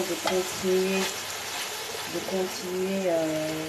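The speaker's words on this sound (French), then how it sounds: "notre tomate est en train de cuire gentiment. Je vais y rajouter un petit peu d'eau" Tomato simmering in a pan for a chicken drumstick dish as a little water is added, a steady sizzle and bubbling running throughout beneath a speaking voice.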